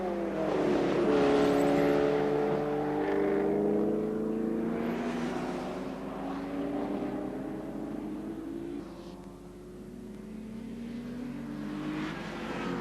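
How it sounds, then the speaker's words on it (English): Classic sports cars racing at the Anglesey circuit in a Future Classics club race, among them a BMW and a Porsche, a loud, sustained engine roar rising and falling as cars sweep past, with no speech. "Here's 37, the Irons Allgood BMW. They've been in the pits."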